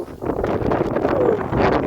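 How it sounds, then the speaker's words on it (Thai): Strong wind gusts buffet the microphone outdoors by a pond as rain arrives, a rough, roaring rumble filling the whole moment. "ลมแรงมากครับลมแรงมากครับ"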